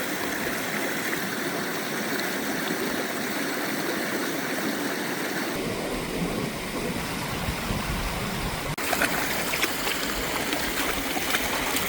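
A wilderness river stream flowing steadily, a constant rushing and babbling wash of water at moderate loudness, with the tone shifting slightly as the listening position moves, no speech.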